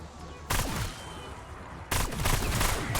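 Full-auto TR2 rifle firing in Black Ops 6 Zombies, two rapid loud bursts of gunfire with a fast fire rate, separated by a short gap, with game effects in the background.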